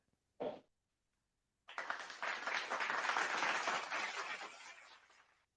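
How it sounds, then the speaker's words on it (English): A single sharp clap, a brief silence, then sustained applause from a crowd that swells and slowly fades. "Let's clap it up for Dr. Bowman."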